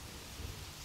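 Steady rain pours down with a low thunder rumble swelling briefly in the middle, a faint, short burst of storm noise with no voices.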